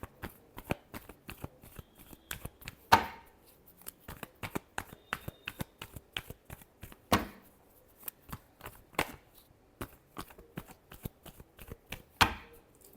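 Tarot cards are shuffled by hand in quick, crisp riffling bursts, with sharp snaps and flutters repeating close up over the whole stretch; nobody speaks.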